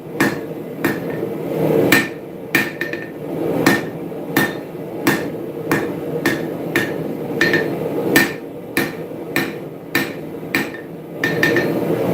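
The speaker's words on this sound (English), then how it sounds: "Sanmai is a really tricky thing to forge with. I'm going to move you closer to the anvil" Hammer forging san mai steel on an anvil at a smithing forge, a steady run of loud ringing metallic blows, roughly one per half second, close up with no talk.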